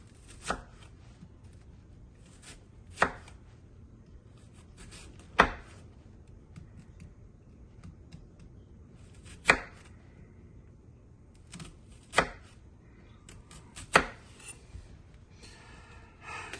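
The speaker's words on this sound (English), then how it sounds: "let me get these onions cut up" Knife dicing onions on a cutting board for asparagus soup: six sharp, isolated chops spaced a few seconds apart over a low background hum, with no talk.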